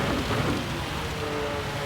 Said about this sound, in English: We've got to get through this last downpour.